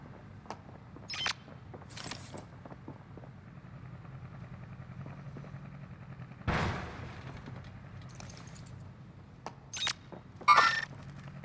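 PKM machine gun fire in the Warzone video game comes as a few short, sharp bursts heard at a distance over a faint ambient background, with gaps of quiet between them.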